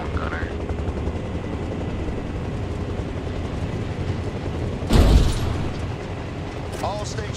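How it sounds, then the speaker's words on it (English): A gunner helicopter in the video game ARMA Reforger gives a steady, loud rotor and engine rumble throughout, with a sharp boom partway through and a voice talking over it. "I'm about to get this gunner chopper up."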